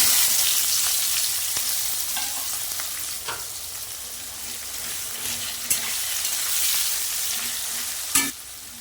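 Chopped onions fry in a wok for a mutton curry, a steady close sizzle broken by a few sharp clinks and scrapes of stirring, with no talking.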